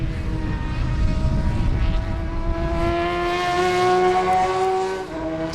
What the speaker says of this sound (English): we can hear there's a Porsche, two Porsche T4 cars right behind us